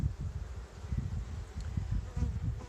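Continuous low buzzing of many bees, steady and close, with a wavering hum that fills the whole stretch and no voices.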